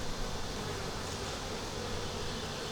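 Honey bees swarm densely around a nuc hive, with a thick, continuous buzzing drone that stays loud and close, steady throughout and with no talk.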